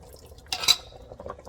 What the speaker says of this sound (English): put a little flour, some water in a cup and stir it